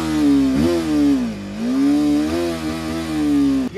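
A TVS Apache RTR 310 motorcycle engine and exhaust rev repeatedly, the tone climbing and falling in strong, loud swells; close and continuous with no talk over it.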